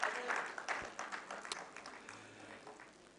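An audience at an international Punjabi conference claps in a scattered, fairly distant round of applause that tapers off, with a voice faintly heard over it.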